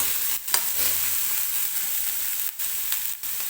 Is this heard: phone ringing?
no